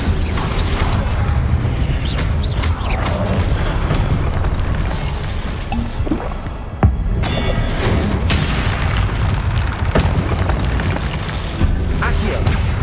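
Dense, constant rumble of spell-combat effects from Hogwarts Legacy, with repeated booming bursts and blasts running throughout, including a sharp crack near the middle, all loud and continuous with no clear gaps.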